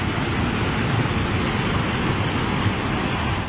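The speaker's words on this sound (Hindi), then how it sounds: "फिर इसके बाद तो सैलाब गरजता हुआ आया और सब कुछ बहा ले जाने पर आमादा हो गया।" Roaring floodwater surges after a cloudburst in the Aani area of Kullu, a dense, steady rushing torrent that fills the whole stretch loudly and continuously with no voices.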